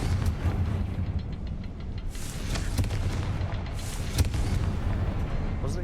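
A Confringo explosive spell goes off in Hogwarts Legacy: a dense, rumbling blast that holds steady throughout, with a few sharper cracks breaking through near the middle and end.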